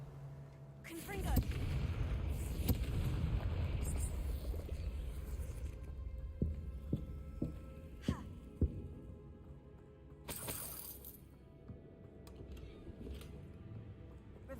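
Explosive spell blasts cast in the Hogwarts Legacy video game go off as a run of booming impacts and sharp cracks over rumbling game ambience, with a voice talking over parts of it.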